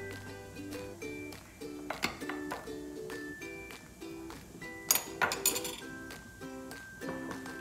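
A spoon stirs rice flour starter batter in a bowl for Palembang laksan, giving repeated light clinks against the bowl over steady background music.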